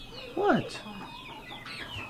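Chickens cluck close by, one bird's sharp rising call standing out over softer, fainter clucks and faint ambient noise.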